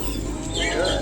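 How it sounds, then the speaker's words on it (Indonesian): Pigeons at a bird market in Palembang give soft, low cooing calls amid a busy bed of market noise, with faint chirps from other birds and some background voices. "burung ini merpati"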